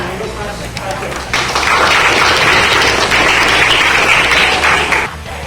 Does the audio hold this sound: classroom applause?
yes